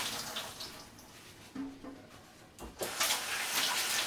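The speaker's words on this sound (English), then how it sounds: "So I'm washing my hands" Hands are washed under a running kitchen tap, a close rushing hiss of water that shifts and splashes as the hands move through the stream, with brief breaks in the flow.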